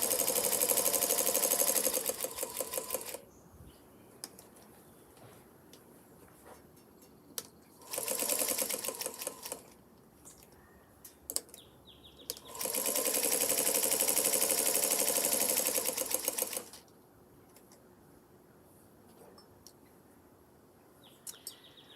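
A sewing machine runs in three stitching bursts, the last and longest about four seconds, with quiet pauses and small clicks between them.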